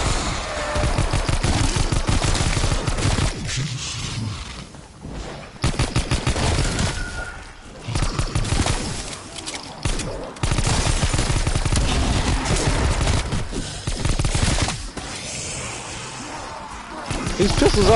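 Pistol fire in a zombies video game, rapid repeated shots cracking out in dense bursts, loud and up close amid chaotic game noise and impacts.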